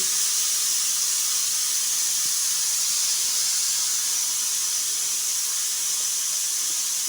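Dal cooking on the stove lets out a constant, even steam hiss that holds steady throughout, with no voices.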